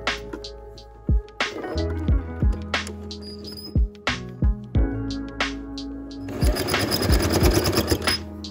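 A sewing machine stitches patchwork quilt pieces in short runs, each burst of whirring and needle thumps stopping and restarting, ending in a longer, faster stretch of stitching.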